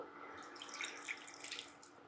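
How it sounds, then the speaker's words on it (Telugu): Water poured into a pot for jonalu, a faint, close trickling and splashing stream lasting about two seconds, with no one speaking. "సో కొంచెం వాటర్ వేసుకుందాము."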